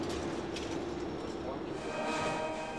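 A Berlin Stadtbahn train passes through Friedrichstraße station in 1990, a steady loud rolling rumble with a faint high squeal and rattling, as a voice narrates over it.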